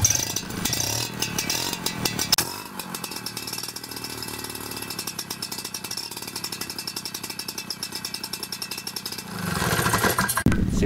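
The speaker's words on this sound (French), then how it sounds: "Je fais passer 2-3 points de compression et ensuite je tente de démarrer." A RedBack Solo Eco engine being pull-started: a loud, rough buzzing burst at the start, then rapid rhythmic pulsing as it turns over, and a louder surge again near the end.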